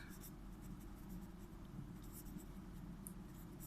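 Pen writing by hand on paper while working out a physics vector problem, a faint continuous scratching with brief strokes, close and quiet with no talk.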